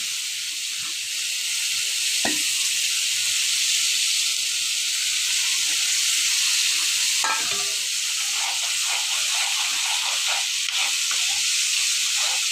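A spice paste of ginger, garlic, onion, turmeric and chilli sautéing in a pan gives off a strong, steady hissing sizzle, with a few sharp stirring knocks and scrapes heard close up and no talking.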